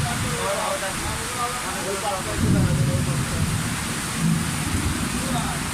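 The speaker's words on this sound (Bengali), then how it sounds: "প্রচুর বৃষ্টি হচ্ছে" Heavy rain pours down outdoors during a shoot, a constant dense hiss with low rumbling swells midway and again later.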